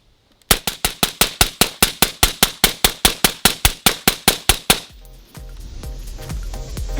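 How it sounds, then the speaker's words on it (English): An AR-15 rifle fitted with an Xtreme Performance Bolt fires a rapid, evenly spaced string of about twenty loud, sharp shots close by, followed by an abrupt stop and a lingering rumble of noise. "While it's still warm, let's shoot it."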